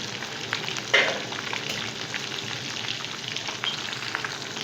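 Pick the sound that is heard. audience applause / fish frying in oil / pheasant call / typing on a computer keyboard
fish frying in oil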